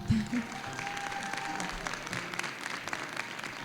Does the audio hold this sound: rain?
no